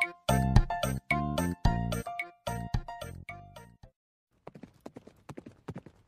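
Horse hooves clip-clop as a storytelling sound effect, a brisk run of sharp, close hoof strikes with a bright ringing tone that breaks off, then lighter, fainter taps follow.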